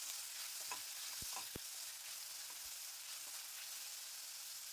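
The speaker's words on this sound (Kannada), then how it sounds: "ಟೊಮೊಟೊ ಸಾಫ್ಟ್ ಆಗೋ ತನಕ ಫ್ರೈ ಮಾಡ್ಕೊಳ್ಬೇಕು." Finely chopped tomatoes fry in a pan with a faint, even sizzle, a few soft stirring clicks and scrapes scattered early on, no voices.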